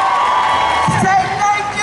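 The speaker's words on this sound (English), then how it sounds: "I want you to say a big thank you and a round of applause to Moj Madera" A crowd at a community event with Congresswoman Maxine Waters whoops and cheers loudly and continuously in a dense wash of voices, with a few louder shouts standing out near the middle.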